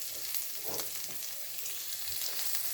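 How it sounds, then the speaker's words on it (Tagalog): Garlic and onion sautéing in hot cooking oil for a home-style bok choy stir-fry, a steady close hiss of frying with a few soft stirring scrapes, no voices. "nagpapainit na ako ng mantika, saktong dami lang para sa panggisa, at ilagay na rin ang bawang at sibuyas"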